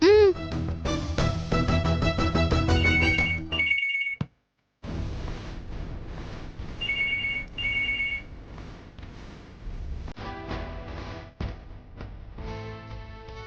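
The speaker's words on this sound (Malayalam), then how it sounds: "ചിക്കു, മുതിർന്നവരാരെങ്കിലും ഫോൺ എടുത്ത് സൂക്ഷിച്ച് സംസാരിക്കണം." A telephone rings in a home scene from a Malayalam TV serial, sounding as repeated electronic ring bursts over background music and indoor noise, with voices nearby.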